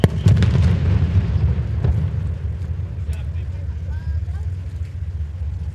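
During a military capabilities demonstration, an explosive device planted on a ship detonates with a loud, deep boom at the start, then fades into a long rolling low rumble while a voice talks over a public address.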